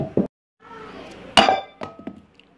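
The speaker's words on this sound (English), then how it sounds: "I'm gonna throw this can of bacon soup at him" A can of bacon soup thrown in a plush-toy parody of Bendy, landing with a sharp metallic clink followed by a couple of smaller rattling knocks, close and loud against near silence.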